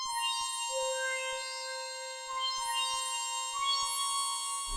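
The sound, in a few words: synth lead in FL Studio without effects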